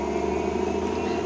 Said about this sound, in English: And there's a garbage truck, I think, so that's loud.